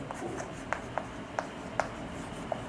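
Chalk or marker tapping and scratching on a classroom board during a chemistry lesson, a series of short sharp strokes at an uneven pace, close over a faint room hum.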